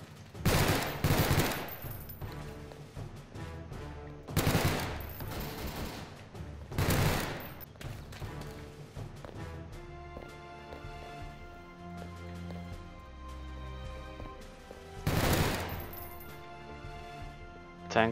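Gunfire in the video game Garry's Mod crackles in several sharp, loud bursts of rapid automatic shots, separated by quieter gaps of lighter game noise.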